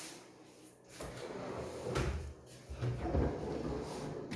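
A pull-out unit with IKEA Ringhult gloss white fronts in a fitted kitchen slides open, giving soft runner rumbles and a couple of light knocks close by, with no talking.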